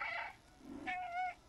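A cat in the video game Stray gives two drawn-out, wavering meows, fairly close and clear, separated by a brief low murmur.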